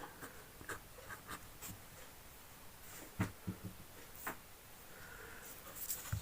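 Marker or chalk strokes scratch across a board while a physics problem is worked out, a series of short, close scrapes and taps at an uneven pace, fairly quiet with no speech.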